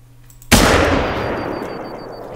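A single loud rifle shot aimed at a rabbit in The Hunter: Call of the Wild at Layton Lakes, a sharp crack after a brief quiet, followed by a long rolling echo that fades slowly.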